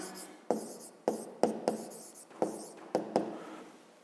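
A pen writes out a math solution by hand on paper, with about seven close, crisp bursts of strokes and taps separated by short pauses and no voices.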